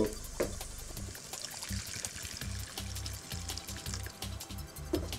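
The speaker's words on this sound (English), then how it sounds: "And a bit of water." Water poured into a cooking pan holding salmon seasoned with rosemary, thyme and dried hot chili, a continuous trickling pour with some clattering kitchen sounds and no talk.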